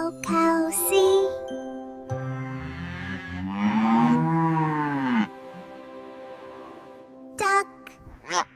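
Cow mooing in a children's animal-vocabulary lesson, a long drawn-out moo with rising and falling tone between short bursts of speech, fairly close and clear.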